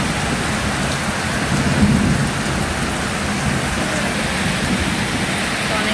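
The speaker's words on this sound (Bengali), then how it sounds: "অনেক বৃষ্টি হচ্ছে।" Heavy rain pours outside during a windy storm, a dense, steady roar of downpour close by, with a brief low rumble swelling near the middle.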